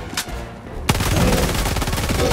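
Gunfire in the video game Helldivers 2: after a brief faint shot, a loud sustained burst of rapid automatic fire starts and continues steadily to the end, close and dominant.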